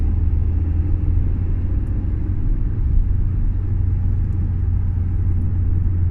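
A car drives slowly along a roadside, its engine and tyres giving a steady, close, low rumble with no change in pace and no voices.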